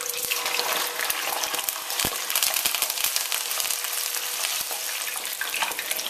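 Fish frying in hot vegetable oil over medium-high heat for Jamaican escovitch fish, a loud, dense, steady sizzle with crackling pops and spatters throughout.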